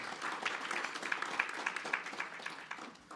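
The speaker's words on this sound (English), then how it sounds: "So a big round of applause to everyone." Applause from the audience at the North American Talent Summit opening ceremony, a moderate, even patter of many hands clapping that tapers off slightly at the end.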